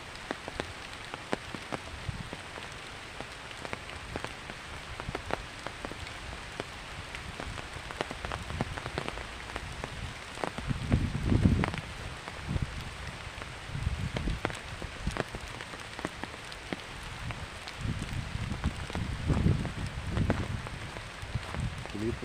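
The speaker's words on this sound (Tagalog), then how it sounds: "Panandalian po tayong huminto kasi bumagsak po ang ulan." Steady rain falls in a leafy, forest-like spot, a continuous patter on surfaces with denser, louder bursts of drops partway through and no voices.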